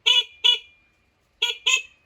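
Short, shrill Motorstar 125 motorcycle horn beeps sound in two pairs, a quick double honk, a pause, then another double honk, fairly close.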